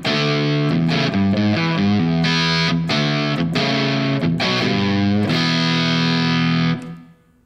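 An electric guitar plays through a Fuzzrocious Cat Tail distortion pedal with the gain set low, around nine o'clock. It gives a loud, crunchy, saturated run of chords and notes, then a final ringing chord cut off at the end.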